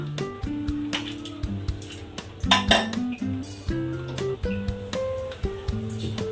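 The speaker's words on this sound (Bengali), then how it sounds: "প্যানটা বসিয়ে দিলাম।" A metal pan is set on a stove with a series of sharp clanks and clinks, a few seconds of close kitchen clatter with ringing metallic tones between the hits.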